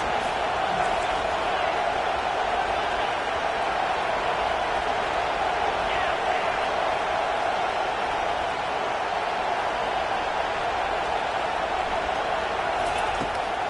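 A college football stadium crowd fills the air with a steady, broad roar of distant voices that never lets up.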